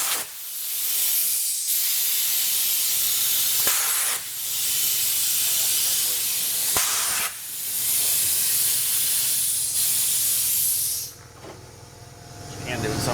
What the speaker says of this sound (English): Grab your blaster hose right here on the side. Okay. Okay. Now what you're gonna do is have your air blowing.